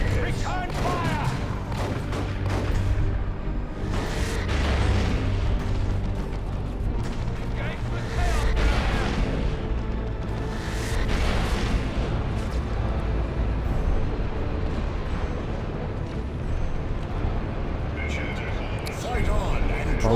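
Battle din from the real-time strategy game Dawn of War II: Retribution, with dense, continuous gunfire and booming artillery across the whole stretch, loud and layered, while voices speak over the fighting.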